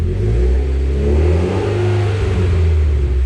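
A Mitsubishi Evo X engine revs loudly and steadily up close, a full, continuous roar with rising and falling pitch and no voices over it.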